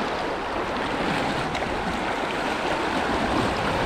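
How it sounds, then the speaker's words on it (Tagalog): Strong current of a large river rushing steadily at night, a dense broadband wash that stays loud and close with no talk over it. "Lakas ng agos."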